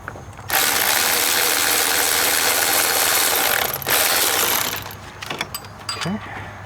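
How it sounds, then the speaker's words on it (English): An electric ratchet whirs loudly and steadily for about three seconds, pauses briefly, then runs again while removing an alternator bolt on a 2008–2013 Kia Forte, followed by softer metallic clicks and handling noise. "we're just gonna get our electric ratchet"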